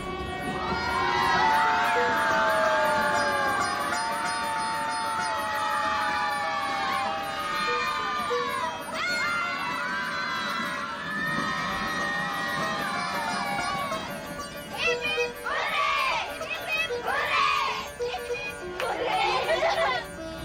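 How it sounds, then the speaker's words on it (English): Uniformed school kids shout and cheer together aboard a train passing through a tunnel in Punjab, India, with loud sustained crowd voices that swell and repeat in bursts amid rumbling train noise. "The school kids in their uniforms cheer in unison every time we pass through one of the tunnels"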